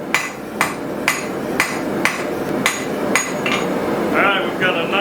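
A blacksmith strikes hot steel on an anvil to draw down a taper for a campfire trammel hook, sharp ringing hammer blows falling in an even rhythm about every half second, close and loud.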